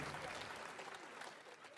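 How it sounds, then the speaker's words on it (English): A faint, brief wash of audience applause comes from a live gaming showcase at Summer Game Fest 2023. The clapping is dense and distant, and it carries evenly for under two seconds. "Do you hear the audience applause for that?"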